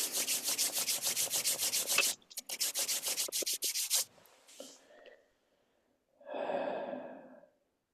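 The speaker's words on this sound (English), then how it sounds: "just rubbing my hands and then placing them over my eyes" Hands are rubbed together briskly, making a fast rhythmic series of close dry swishing strokes for about four seconds, then a pause and a soft, audible exhale.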